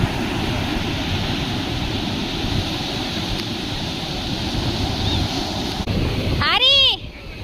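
Ocean waves roll onto a beach in a continuous washing roar with wind buffeting the microphone, and a brief voice is heard near the end.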